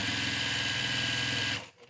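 A sewing machine runs a quick back stitch along the quarter-inch folded seam of a pleated fabric face mask, a close, rapid mechanical chatter lasting about a second and a half before stopping abruptly.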